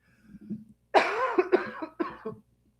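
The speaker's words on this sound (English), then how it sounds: "I'm sorry about the coughing" Several harsh coughs in quick succession after a faint murmur, close to the microphone, with a short pause before the final cough.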